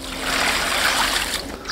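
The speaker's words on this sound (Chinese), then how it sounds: "最后洗一番菜" Vegetables being washed under running tap water during outdoor cooking, a loud close steady splash and trickle that eases off near the end.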